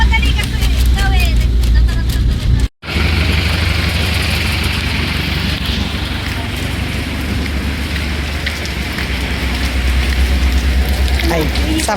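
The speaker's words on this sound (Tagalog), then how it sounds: "Umuulan." Steady rain falls during an outing tied to swimming, a continuous wash of patter with a low engine-like rumble underneath, broken by a brief dropout near the start; voices are faintly present.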